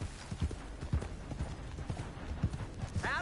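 Horse hooves clip-clop at a steady walking pace in Red Dead Redemption 2, a regular, fairly close rhythm of hoof strikes heard alone over faint ambient game sound.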